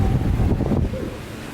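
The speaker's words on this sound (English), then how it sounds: "Today's a bit of a windy one here in Santa Monica" Wind at the Santa Monica pier buffets the microphone in a loud rumbling gust that fades into a softer steady rush within about a second and a half, with no talking.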